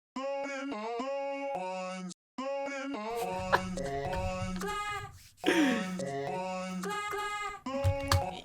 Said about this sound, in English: I'll play it for you with zero processing, just the vocal chop.